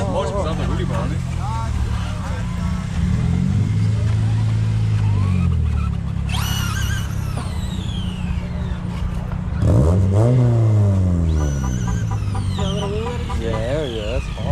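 A brushless RC car racing fast, its high-pitched electric motor whining up and down in repeated sweeping passes, loud and close over a steady rumble while people talk throughout.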